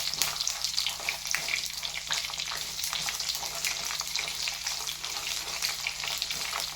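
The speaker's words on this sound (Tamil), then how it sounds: "வரமிளகா நல்லா ஃப்ரை ஆனதுக்கப்புறம் 5 பூண்டு." Garlic cloves and dried red chillies frying in oil for egg kurma, a continuous close hissing sizzle at steady level with no talking.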